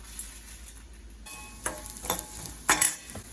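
Chana dal roasting in hot oil in a pan for sambar, giving a soft, steady sizzle broken by several brisk scraping stirs toward the end.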